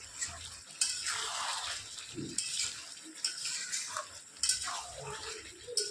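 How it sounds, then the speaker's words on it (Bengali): Potatoes and meat are sautéed together in a pot, with soft stirring scrapes and clinks of a utensil over a low sizzle, fairly quiet and close, with no talking. "আলুটাও কষানো হবে আর হচ্ছে মাংসটাও আস্তে আস্তে এটার সঙ্গে কষাতে থাকবে"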